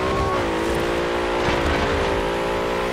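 Cars race along a highway in Forza Horizon 4, one engine holding a loud, steady high-revving drone with a smooth sustained pitch and no break throughout.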